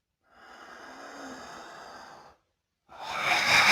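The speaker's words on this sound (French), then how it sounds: "on va finir la séance par simplement 3 respirations assez intenses avec comme un animal qui s'ébroue" A person takes intense breaths like an animal snorting and shaking itself during a relaxation session: a long, strong exhale through the nose, a pause, then a second forceful, noisier blast of breath, close and alone.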